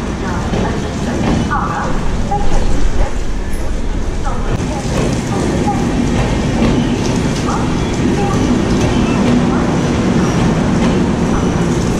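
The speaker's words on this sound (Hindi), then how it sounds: "ट्रेन का डिपार्चर देख के वीडियो एंड करेंगे" Howrah–Malda Town Intercity Express pulling out of Bolpur station, a steady loud rumble of rolling wagons and wheels lasting throughout, with voices talking over it.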